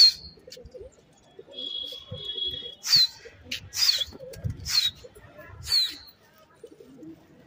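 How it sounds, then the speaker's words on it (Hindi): Pigeons are released and take flight in a few loud bursts of flapping wings, mixed with coos and chirps. A voice murmurs faintly in the background. "ये देखो ये उड़ा दिए कबूतर हमने अपने"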